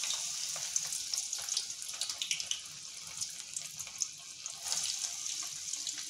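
A handful of lentils dropped into hot oil for a simple snack, giving a steady, close hiss and crackle of frying throughout, with brighter bursts of sizzling and no talking.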